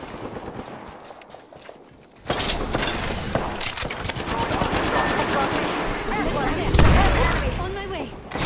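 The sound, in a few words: gunfire in the Apex Legends video game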